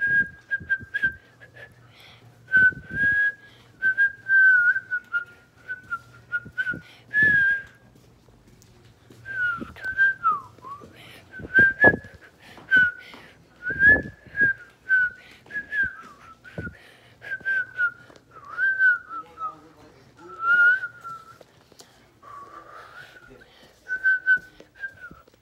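A person whistles the Jingle Bells melody up close, clear phrases broken by short pauses across the whole stretch, with occasional bumps and knocks and a low background hum in places.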